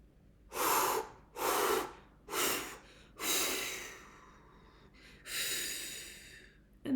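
Deep, forceful breaths during a breathing exercise for recovering from a covid illness, about six long exhalations and inhalations in a slow rhythm, close and loud, with no talking.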